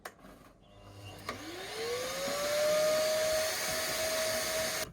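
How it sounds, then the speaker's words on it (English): A vacuum cleaner whirs up to speed after a click, its motor pitch rising then holding a steady, loud drone to the end. "time to get the vacuum cleaner out"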